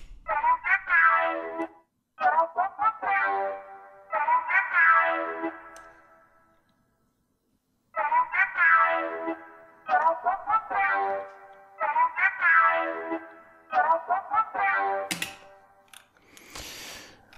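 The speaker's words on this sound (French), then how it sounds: "je mets en solo ma piste et je lance la lecture et je dose le niveau de reverb" Solo instrumental track in Logic Pro X played back with reverb added, with phrases of pitched, harmonically rich notes in bursts separated by short pauses and a noisy burst near the end, with no voices.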